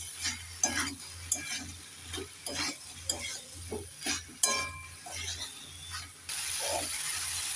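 A spatula stirs rohu fish curry with bottle gourd stems, lentil dumplings and roasted cumin powder in a pan, producing a run of rhythmic scraping knocks over a steady low hum.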